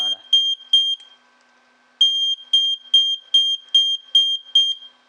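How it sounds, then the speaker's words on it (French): A homemade motion detector alarm's buzzer beeps shrilly and loudly in a fast, regular series: three beeps, a short pause, then seven more at an even pace. "Donc on a le buzzer qui est juste là, qui clignote."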